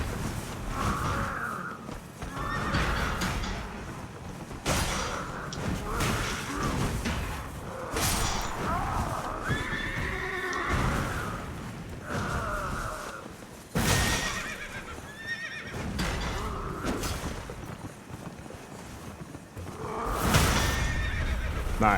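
Horse neighs and whinnies from the Elden Ring video game, with clip-clopping hooves as a mounted Cadence sellsword attacks; several loud, sharp whinnies recur across the clip over steady combat noise, with no talking.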